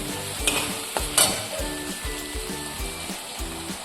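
Tomato puree sautés with golden-brown onions in a pan: a steady close sizzle with rhythmic stirring scrapes about every half second, and a few louder clatters near the start.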